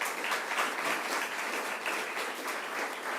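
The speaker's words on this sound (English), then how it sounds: "Wendell Weeks, let's give him another round of applause." Steady audience applause for Corning's Wendell Weeks at a New York governor's semiconductor announcement, a dense even wash of many hands clapping throughout with no talking.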